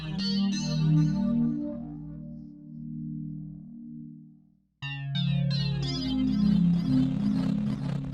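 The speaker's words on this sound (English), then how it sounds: "it's only our echoes that are going to go into like wild distortion" Echo repeats from an Audio Damage lo-fi tape-style effect break into wild cassette distortion over a played track, with dense smeared tones that cut out briefly midway and then surge back loud.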